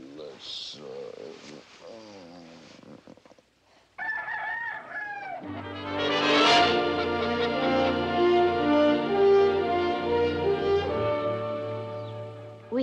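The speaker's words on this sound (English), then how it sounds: "2 dozen leghorns for me to look after." Leghorn chickens on a small farm cluck and a rooster crows near at hand, the calls giving way to swelling orchestral music that carries on loudly to the end.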